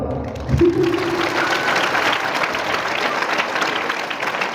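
An audience at a crime-prevention and anti-drug awareness talk in a hospital setting claps steadily, a dense sustained applause that starts up quickly and carries on through the whole stretch.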